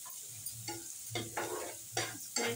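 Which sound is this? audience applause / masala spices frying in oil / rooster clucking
masala spices frying in oil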